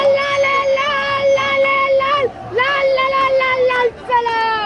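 At a student protest march on the JNU campus, a young woman's loud, high-pitched voice leads repeated drawn-out chants in a steady rhythm, close and dominant over a low background murmur.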